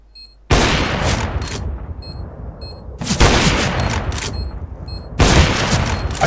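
Bursts of loud gunfire in the CS:GO shooter game, three sharp onsets each followed by a sustained rattle of rapid shots with brief gaps between volleys, close and dominant.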